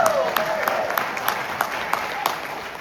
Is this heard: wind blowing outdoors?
no